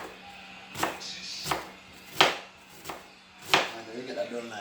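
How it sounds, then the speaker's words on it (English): A knife chops through an onion on a cutting board in about five sharp, evenly spaced strikes, close and crisp, with faint background sounds between the cuts. "I cut up the onion real quick"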